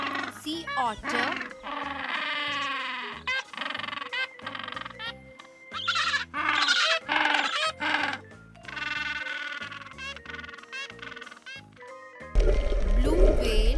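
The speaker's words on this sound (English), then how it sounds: "sea otter," A sea otter gives repeated high, squeaky whistling calls in quick bursts, loud and close, ending with a short noisy stretch.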